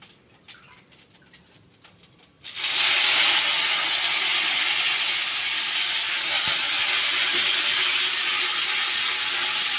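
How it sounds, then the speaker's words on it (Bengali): Curry leaves hit hot oil already seasoned with asafoetida, setting off a sudden loud, steady sizzle that holds to the end after a few quiet seconds of handling noise. "এবারে কারি পাত্তা দিয়ে দিচ্ছি"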